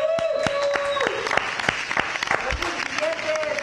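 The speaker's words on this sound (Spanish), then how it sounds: "Que se escuchen los aplausos." Scattered clapping from a small office staff at a welcome gathering, a handful of hands slapping at uneven intervals, with talk and a steady tone running beneath.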